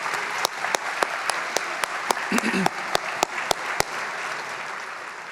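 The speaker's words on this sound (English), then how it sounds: "Can we please give a round of applause to Bill Elcombe and his students?" A school music showcase audience claps warmly for a teacher and his students, a loud, even spread of applause with a few sharp, distinct claps standing out and a brief murmur of voices partway through.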